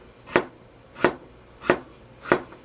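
Knife slicing through a cucumber on the bias, four evenly spaced crisp chops against a cutting board, close and clear with no talking.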